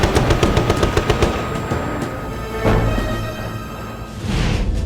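An F-86 Sabre fires its guns at a MiG: a rapid, loud machine-gun burst opens, followed by heavier scattered thuds and rumbling.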